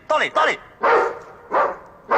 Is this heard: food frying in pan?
no